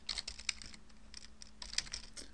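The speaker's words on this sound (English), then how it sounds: "This is a report that's text, so I can type right into it." Steady typing on a computer keyboard to enter text into a report, with irregular close-up clicks of varying loudness continuing throughout.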